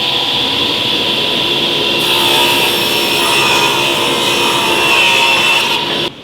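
A table saw rips a board of cherry wood, a steady loud whining cut with a bright blade tone that rises as the blade enters the wood, runs for several seconds and drops off at the end.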